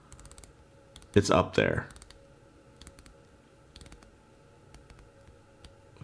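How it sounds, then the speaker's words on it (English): A Titoni Seascoper 300 dive watch's glossy ceramic 120-click bezel is turned, giving a short, close burst of quick ratcheting clicks that lasts under a second, with a person speaking briefly nearby. "I love the balance between clickiness on the ratcheting and smoothness."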